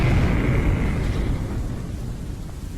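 A huge dynamite charge detonating on a mountainside, heard as a deep, sustained rumbling roar that fills the low end and slowly fades over a few seconds.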